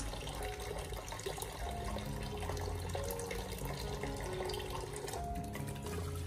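A kitchen tap runs steadily into a sink while a whole chicken is rinsed, a continuous close rush of splashing water with small shifts in the flow and no speech.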